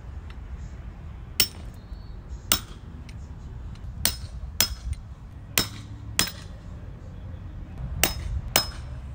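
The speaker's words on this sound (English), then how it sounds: "take a punch and a hammer, line it up, and set them" Sharp metallic hammer strikes on a punch setting rivets on a Jeep Wrangler JL, about ten separate blows at irregular intervals, close and distinct over a low background hum.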